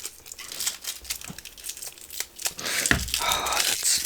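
A Beyblade Burst booster pack wrapper is torn and crinkled open up close, with bursts of sharp ripping and crackly plastic rustling in irregular spurts.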